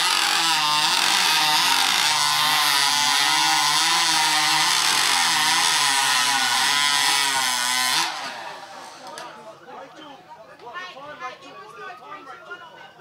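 A modified Stihl chainsaw screams at full throttle as it cuts timber in a mod saw competition heat at the Kumeu International Timber Champs, loud and steady for about eight seconds, then cuts off to crowd noise and scattered knocks.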